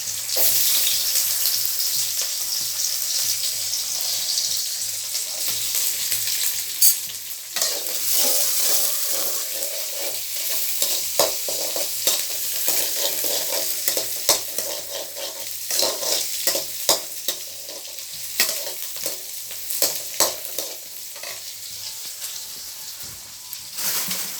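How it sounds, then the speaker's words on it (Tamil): Small onions (shallots) spluttering and frying in oil, with a continuous bright sizzle and bursts of crackling pops that grow busier toward the end, close and fairly loud, no speech. "நல்லா பொரிய சவுண்டு கேட்டதுக்கப்புறம் இந்த நுரை சின்ன வெங்காயம் போட்டுக்கணும்"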